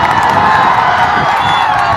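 A dense crowd cheers and shouts loudly and continuously at a Khesari Lal Yadav RJD election rally in Bihar, close and filling the scene.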